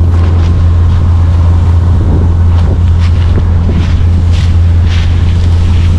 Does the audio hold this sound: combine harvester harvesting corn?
yes